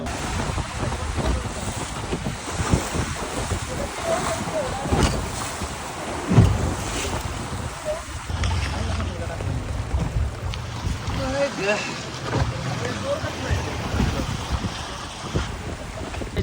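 A boat runs on the Arabian Sea some 10 to 15 kilometres offshore, with constant wind buffeting the microphone, a low engine and hull rumble, and waves splashing, loud and continuous, with people talking intermittently.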